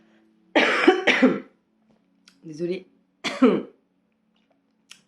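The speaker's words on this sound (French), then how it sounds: "je tousse." A person coughs twice in quick succession, then again shortly after, close and clear, with a brief spoken word between.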